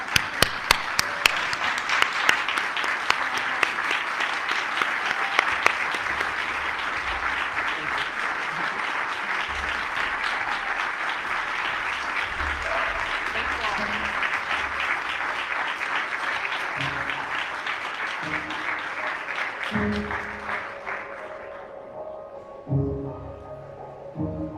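An audience at Evansville's State of the City address applauds to welcome Mayor Stephanie Terry, with sustained, steady clapping for about twenty seconds that fades out before a voice begins speaking.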